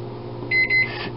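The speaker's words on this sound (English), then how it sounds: "what we're going to do is put the chocolate in the microwave" A microwave oven heating chocolate at half power, its steady hum broken by a few short electronic beeps, close and alone.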